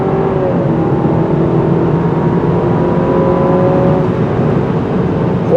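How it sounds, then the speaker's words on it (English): 2024 Alfa Romeo Giulia engine pulling steadily under acceleration while driving, a loud, smooth, continuous drone with rising tonal whine, heard from inside the car with no talking. "What a sweet engine."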